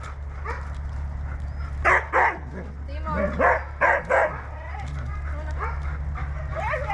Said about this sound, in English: They are pretty energetic dogs, so it takes sometimes a bit time to calm down.